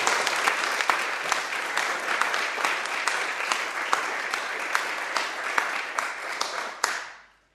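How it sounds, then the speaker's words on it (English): Steady, dense applause from a conference audience at a EuroSciPy closing session, rising at once to full strength and holding for about seven seconds before stopping abruptly. "let's give a round of applause to them"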